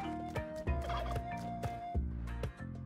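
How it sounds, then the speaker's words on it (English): Turkey gobbling in the video game Spelunky 2, a run of loud, rapid warbling gobbles repeated several times over a steady game soundtrack, with no talk. "What is that sound effect? The turkey did not like being held, apparently."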